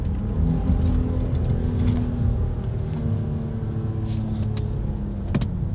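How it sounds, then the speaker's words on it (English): A car engine hums and rumbles steadily throughout while driving on a road, with a slight rise in revs toward the end and a brief sharper burst near the close; no talk. "The car just revved in D2."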